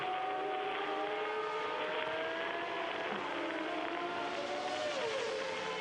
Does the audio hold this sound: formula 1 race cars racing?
yes